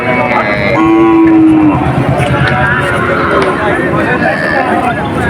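Cattle at a village cow market where a cow is being milked, a brief low moo under constant loud crowd noise and nearby talk.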